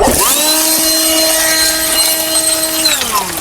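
A blower runs on a roof while clearing debris during gutter cleaning. Its loud, close motor whine spins up, holds steady, then winds down, with no voices.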